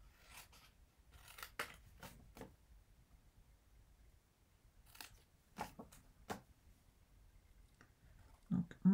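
Scissors snip through paper while trimming a scrapbook table decoration, several quiet crisp cuts in short clusters separated by pauses, close and fairly soft.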